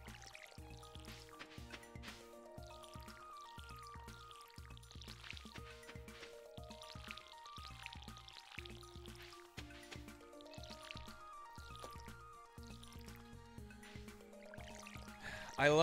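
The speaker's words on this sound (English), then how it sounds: "So, let's water the ones that haven't been watered here." Watering can splashing water over crops in the farming video game Stardew Valley, with soft repeated pouring and dripping sounds over steady game music that plays throughout.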